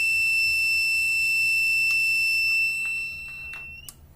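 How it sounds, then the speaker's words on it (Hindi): A Microtek inverter sounds its overload and low-battery warning: a steady, loud high-pitched electronic buzzer tone that holds continuously, then falters and trails off near the end, with no talking. "बजर लगातार बीप करता है"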